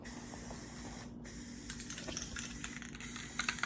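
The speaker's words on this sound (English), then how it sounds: "We're about to spray paint it." Aerosol spray paint hisses steadily onto a 200cc go-kart frame being restored, a close, continuous stream with a few brief pauses and changes in pressure.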